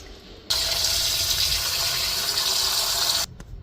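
Tap water runs steadily over meat being washed in a home kitchen, starting abruptly and gushing continuously for about three seconds before cutting off, followed by a few faint clatters.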